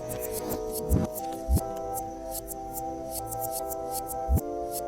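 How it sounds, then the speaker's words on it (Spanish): Close rubbing and scraping as insulation is stripped from an electrical cable for an LED neon flex sign, with a few dull knocks amid a steady tonal hum in the background. "Pelamos nuestro cable de un lado"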